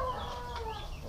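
Farmyard chickens cluck close by in a steady, busy stream of short calls over low background rumble, with no voices.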